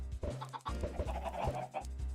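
Chickens cluck in Minecraft Bedrock, a couple of short, repeated fowl calls that stand out clearly over steady background game music, with no voices in between.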